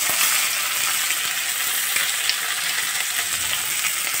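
Sliced onions hit hot oil that has been used to fry potatoes, and a steady, close crackling sizzle follows with occasional small pops, no voices over it.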